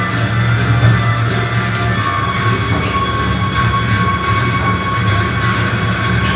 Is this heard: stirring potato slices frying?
no